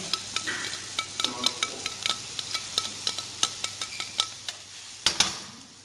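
Onions frying in oil and garlic butter in a pan, a faint steady sizzle under a rapid series of sharp utensil clicks and taps against the cookware, with a louder clatter near the end.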